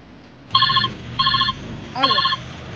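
A phone rings in three short electronic trills, evenly spaced and fairly loud, with nothing else going on around them.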